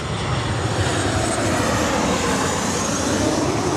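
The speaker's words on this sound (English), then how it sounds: "it'd be a nice park if it weren't for all the noisy airplanes." Loud, continuous roar of aircraft engines overhead, a steady broadband rush with no pauses.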